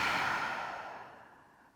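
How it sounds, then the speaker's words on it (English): A single long exhale through the mouth, a soft breathy whoosh that starts strong and fades away over about two seconds, heard close up and alone. "Inhale through the nose. Exhale through the mouth."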